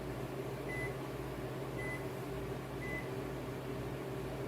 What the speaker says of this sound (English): Hit kitchen timer. Punch in 20 minutes.